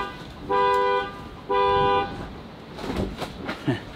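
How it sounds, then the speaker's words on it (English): Two long, loud harmonic electronic tones, each about half a second, from a car panic alarm on an old Land Rover 90, sound back to back, followed by quieter clicks and rustling nearby. "Set my panic alarm up on my motor."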